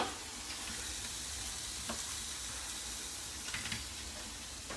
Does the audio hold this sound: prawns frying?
yes